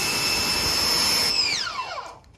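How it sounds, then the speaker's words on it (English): A Ryobi 2000 PSI electric pressure washer hums with a steady, loud motor whine, then winds down in falling pitch as it shuts off after about a second and a half. "It's not a continuous running pressure washer."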